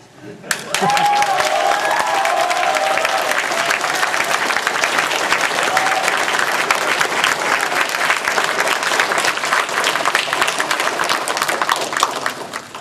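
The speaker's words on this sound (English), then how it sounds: "show it by how much you yell and clap for them right now" A convention panel audience at Anime Expo 2011 cheers and claps loudly, a dense sustained wall of applause and yelling that swells in quickly and holds steady for about twelve seconds, with a brief voice at the start.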